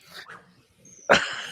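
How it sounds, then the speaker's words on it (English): A dog gives a single sharp, loud bark up close after a couple of faint whines, with a high whistle-like tone just before. "Be careful around that dog."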